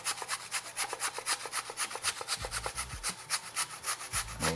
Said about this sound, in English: for the final touches, I like to grate a little bit of fresh coconut on top